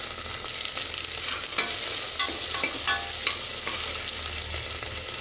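Mustard seeds and tomato fry in a pan, a steady close sizzle with scattered pops and crackles of the seeds and a few scraping stirs, no voices.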